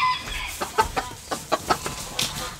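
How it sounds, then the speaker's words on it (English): Chickens clucking close by, a series of short, sharp clucks in an uneven rhythm over a faint background hum. "Oh, chickens."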